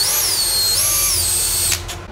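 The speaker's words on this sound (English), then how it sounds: "Gotta drill the rim out." A power drill bores out the rim of an RC wheel, a loud high-pitched motor whine that shifts pitch mid-run, then cuts off and winds down near the end.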